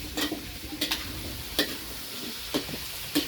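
Pork skin fries in hot oil with a constant soft sizzle, broken by a handful of sharp scraping strokes and clacks as the pieces are stirred and turned, fairly close.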